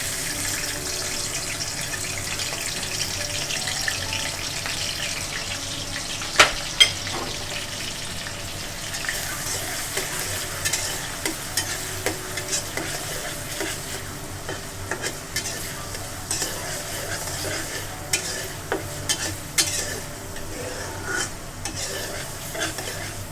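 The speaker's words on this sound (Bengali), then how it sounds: "তেল দিয়ে দিয়েছি, আমার তেলটা বেশ গরম হয়ে গিয়েছে। এখন আমি এর মধ্যে পেঁয়াজটা দিয়ে দেব।" Onions frying in hot oil in a home kitchen pan, a steady soft sizzle with scattered stirring clicks and scrapes, close and fairly quiet, with no talking.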